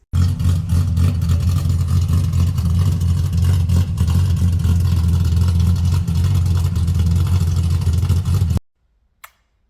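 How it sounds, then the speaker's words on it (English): A Ford Falcon straight-six with a big cam, extractors and a high-flowing exhaust idles loudly and lumpily at close range with a deep throbbing note, then cuts off abruptly near the end. "A big cam, nice exhaust, high flowing exhaust, some extractors, and you got yourself a beautiful sounding straight 6."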